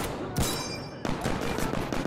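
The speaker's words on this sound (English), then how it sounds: "Good thing this game has suppressive fire in its mechanics." Suppressive automatic gunfire in Insurgency: Sandstorm, a loud, close burst of rapid shots followed by a pause and another sustained volley, with harsh crackling reports and reverberant tails.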